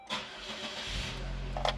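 A Saab 9-3 cranks and fires up after an ISM replacement, a brief starter whir giving way to a steady low engine hum that settles in close by, with no talk.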